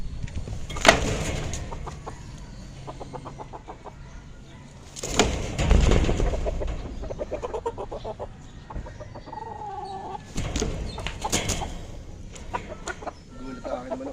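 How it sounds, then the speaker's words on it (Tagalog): Chickens cluck and call in short bursts over a steady farmyard background, with a few louder squawks standing out. "Gulat ang aking manok idol"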